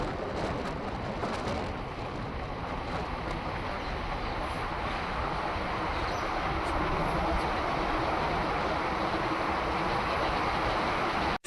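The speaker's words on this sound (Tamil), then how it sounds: "மேலே ட்ரெயின்லாம் போகுது பாருங்க, ட்ரெயின் ட்ராக்கு." A train runs on a railway track overhead, heard as a continuous loud broadband rumble and rattle lasting the whole stretch with no talk over it.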